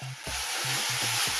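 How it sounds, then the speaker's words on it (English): Beef sautéing in a hot pan, a steady close sizzle with soft low thumps as the meat is moved around, and no talking. "I'm going to saute it."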